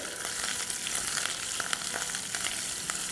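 Onions fry in a pan with a dense, steady sizzle and crackle, loud and close, with scattered sharp pops and no voices.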